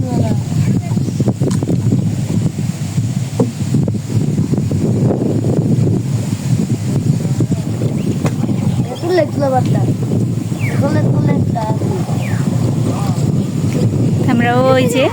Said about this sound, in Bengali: আজকে অনেক বাতাস